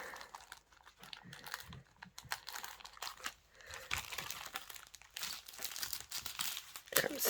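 A cross-stitch kit package being opened by hand, close and quiet crinkling and crunching of plastic wrapping with intermittent tearing and rustling bursts throughout, no talk.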